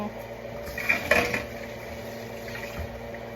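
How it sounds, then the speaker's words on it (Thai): A brief splash and trickle of water poured into a metal rice cooker pot with chicken, light clinks of the pot, over a steady low background hum. "ใส่น้ำน้อยนึง"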